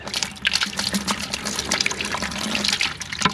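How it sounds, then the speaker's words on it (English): Water gushes and splashes steadily as an older water heater tank with sediment drains, a close, continuous rushing flow with no talking. "So we're going to drain this whole tank out"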